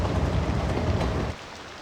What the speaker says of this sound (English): Shame it's raining